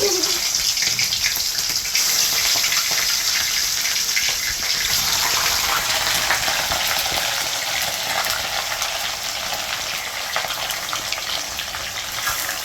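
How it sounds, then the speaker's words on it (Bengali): Chicken pieces frying in hot oil while smoky chicken is cooked, a loud, steady, dense sizzle that runs continuously and unbroken throughout. "গরম হয়ে গেছে, তেল গরম হয়ে গেছে। এর মধ্যে এক এক করে সব মাংসগুলো দিয়ে দেবো।"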